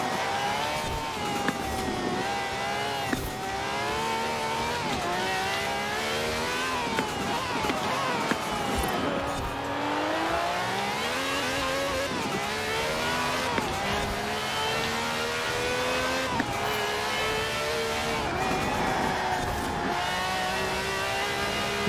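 A Lykan Hypersport engine racing in the Forza Horizon 4 video game, loud and continuous, revving hard, with rising pitch sweeps and repeated gear shifts throughout a long stretch.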